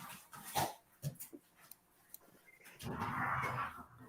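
A dog whimpers and gives short, thin yelps in scattered bursts, growing more agitated and ending in a longer, louder stretch of whining, close but fairly quiet.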